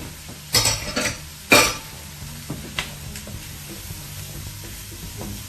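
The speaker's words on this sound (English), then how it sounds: "we're just going to go ahead and throw this bacon in there" Bacon drops into a hot pan with a couple of loud splattering bursts, then settles into a quieter sizzle marked by a few light scraping clinks against the pan.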